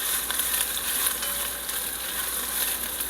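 Chopped onion sizzles in a pan over medium heat, a steady close-up hiss with faint crackle and no talking.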